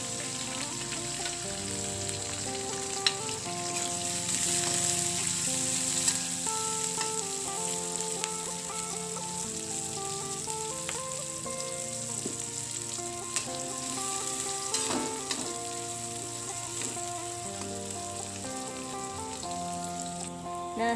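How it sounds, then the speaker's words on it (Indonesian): Shallots, garlic and bird's eye chilies sauté in a pan, giving a steady, close sizzle that holds evenly for about twenty seconds with no voices. "Tumis sebentar saja."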